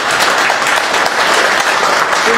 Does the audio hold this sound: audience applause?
yes